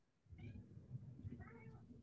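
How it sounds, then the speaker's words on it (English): A cat gives two soft, sweet meows, faint and close, over a low background murmur. "He has a particular sweet,"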